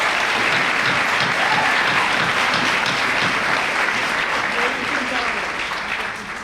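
Audience at a school board of education meeting applauds in a dense, sustained burst of clapping that holds loud for several seconds before tapering slightly at the end.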